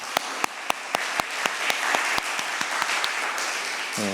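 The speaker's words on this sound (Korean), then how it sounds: "우리 하나님께도 감사와 영광의 박수 올려드리겠습니다." Congregation applause in a church at a Wednesday worship service, a dense wash of clapping with several sharp rhythmic claps standing out in a steady beat, fairly close and loud, ending abruptly as a voice begins.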